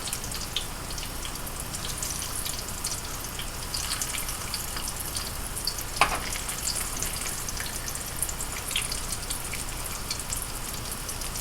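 Yam balls fry in hot oil with a dense, steady sizzle and crackle, close and continuous, broken by one sharper pop.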